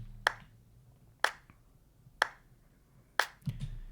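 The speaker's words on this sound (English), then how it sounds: "So it's just some claps that I've got in a clap rack." Clap samples from a drum clap rack in a melodic house track: four crisp, evenly spaced hits about a second apart, each a sharp bright snap over a low, steady synth bass.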